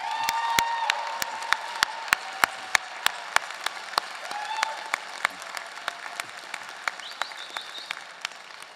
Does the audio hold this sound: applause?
yes